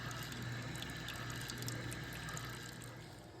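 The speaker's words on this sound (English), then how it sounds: "I poured it in my juicer and it filters it for me" Blended cranberry water pours steadily into a juicer to be filtered, a continuous faint liquid rush and trickle with no speech.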